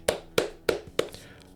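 One person claps four times at a steady, even pace, each sharp hand clap close and distinct with a short decay between.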